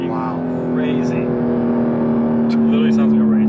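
A Porsche 911 GT3 (992) six-cylinder engine holds a high, steady rev with a sharp racing-car whine, close by and continuous.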